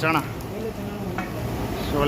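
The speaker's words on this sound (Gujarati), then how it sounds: "ચણાનો વઘાર થાય છે" Oil sizzles and crackles steadily as chickpeas are stirred while tempering in hot oil in a large community kitchen at a Maha Shivratri fair, with brief clinks of a utensil over the busy frying hiss.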